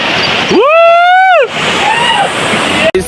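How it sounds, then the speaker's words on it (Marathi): Waterfall pouring at Malanggad, a steady, close, full rush of water that runs through the whole moment, with a voice briefly calling out a long rising-and-falling tone over the roar. "बघा कसं धबधबा वाहतो इकडे मस्त पाणी वाहतोय"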